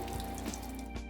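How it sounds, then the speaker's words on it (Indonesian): Running tap water steadily rinses stain off a microscope slide in a hematology lab, a continuous faint hiss of flowing water with no voices. "kita letakkan ke dalam keran dan dengan air mengalir kita bilas"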